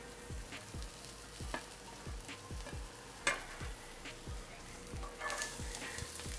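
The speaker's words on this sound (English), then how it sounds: "I'm gonna add a little bit more oil to the pan there so that, pardon me, so that I can fry up the leeks" Leeks frying in oil in a cast iron pan, a soft, even, crackling sizzle with faint intermittent taps and scrapes, quiet and close, no voices.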